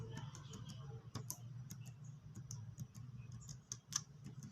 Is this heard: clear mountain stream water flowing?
no